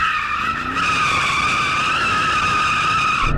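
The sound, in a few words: sports car spinning donuts, tyres skidding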